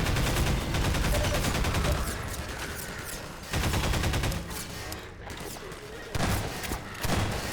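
Heavy bursts of gunfire from Half-Life 2, close and loud. Sustained volleys break off briefly and then start again, with a dense rolling fusillade and thumping impacts.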